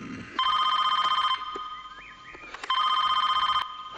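A telephone ringing on an incoming call gives two loud electronic ring bursts separated by a short pause, with no talking over it.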